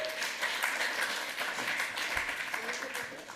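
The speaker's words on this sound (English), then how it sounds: "Give him a round of applause." A conference audience at a lightning-talks session gives a round of applause, a dense steady clatter of many hands at moderate distance, with scattered voices faintly under the clapping.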